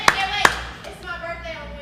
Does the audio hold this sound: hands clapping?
yes